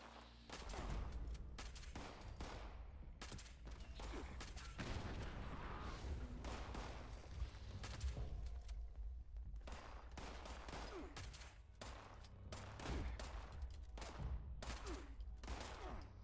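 A shotgun loaded with buckshot fires repeatedly in the Fallout 76 video game, sharp blasts in quick irregular bursts mixed with other gunfire, fairly faint and with almost no talk.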